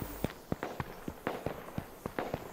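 Gunfire in the survival shooter H1Z1, about a dozen sharp, distant-sounding shots in an uneven rapid series over a low background hiss.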